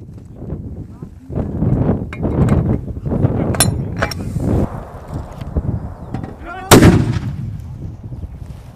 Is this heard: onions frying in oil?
no